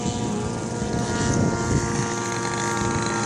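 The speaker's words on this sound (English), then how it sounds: "Oh, biplane." A biplane flies past at an airshow, its droning propeller engine steady and fairly loud, with wind buffeting the microphone throughout.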